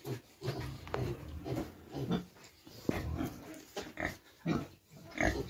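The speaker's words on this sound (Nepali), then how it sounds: "यहाँ चाहिँ सुँगुर पालनहरू गर्नुहुँदो रहेछ होइन" Pigs on a small farm grunt and squeal in irregular bursts, close and fairly loud, with short pauses between the calls.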